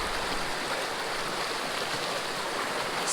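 Mountain stream water flowing in a continuous broadband rush, steady and moderately loud, with no voices heard.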